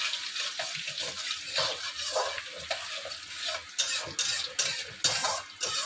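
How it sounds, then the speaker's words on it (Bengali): Chopped ginger stirred into fried garlic in a pan for Bengali dal fry, with a steady frying sizzle under repeated scraping and stirring strokes, close and fairly loud, with no talk. "আর আদা কুচি দিয়ে আবার একটু নাড়াচাড়া করলাম"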